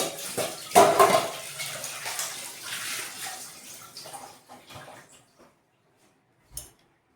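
Water rushing and splashing as a kitchen sink is drained during a deep clean, loudest at first and then thinning into scattered drips and trickles before falling quiet, with one brief clatter near the end.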